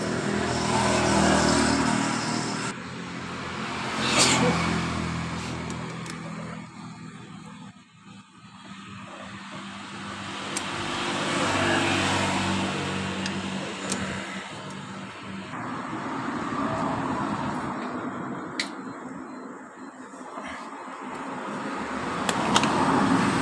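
A Yamaha Fino scooter engine with a hard-idle, sputtering fault revs up and down repeatedly, running rough and uneven with surging rises, stumbling dips and a choppy, misfiring idle, loud and close throughout.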